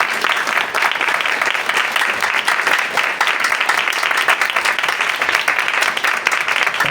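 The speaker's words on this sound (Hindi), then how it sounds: "कोई ताली बजा सकता है अपने खुदा के लिए?" A church congregation at a sermon breaks into sustained, dense applause, many hands clapping together loudly and evenly throughout.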